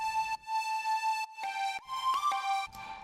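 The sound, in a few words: looped pan flute sample with overdrive, reverb and compression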